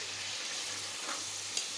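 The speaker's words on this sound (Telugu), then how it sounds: "దీన్ని కూడా చక్కగా ఫ్రై చేసుకుందాం ఫ్రెండ్స్" Ingredients for Hyderabadi chicken dum biryani fry and get stirred in a pan, giving a soft, continuous sizzle with a faint scrape near the end, alone and fairly quiet.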